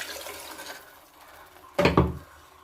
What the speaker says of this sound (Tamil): இப்போ வாட்டர் ஆட் பண்ணிக்கலாம்.